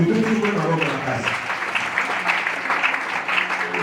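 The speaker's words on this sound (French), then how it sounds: "Applaudissez pour le Seigneur." A church congregation applauds during a worship service, a dense, steady wash of clapping that carries on throughout, with voices briefly audible at the start.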